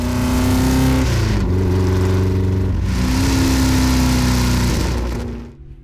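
A Ford 427 FE V8 engine revs loudly and close, pitch rising and falling through several throttle blips, then winding down at the end.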